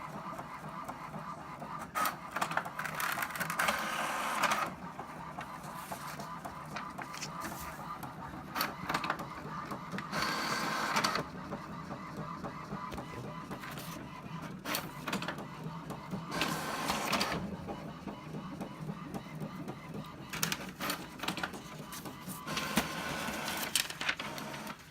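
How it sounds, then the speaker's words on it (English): A printer runs steadily for the whole stretch, a mechanical whir with repeated louder bursts as pages feed through, close by and with no talking. "let's just watch it print."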